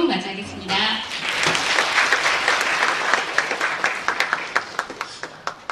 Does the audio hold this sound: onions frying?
no